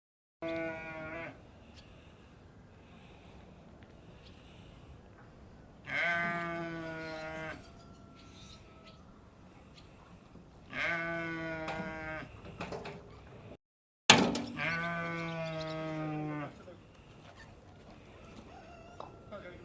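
Merino breeding sheep give long, wavering bleats, about four separate calls spaced a few seconds apart. They sound fairly close against quiet background noise.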